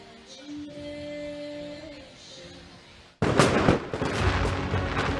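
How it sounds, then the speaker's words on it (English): Fourth of July fireworks bursting over Atlanta at a community celebration, a sudden run of loud crackling booms and pops that erupts after a quieter stretch and keeps going. "Who doesn't love fireworks?"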